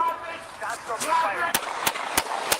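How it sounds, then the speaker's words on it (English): Gunshots in played-back police body-camera footage: four sharp, evenly spaced cracks in the second half, ringing out over shouting officers and a noisy background. "Shots fired!"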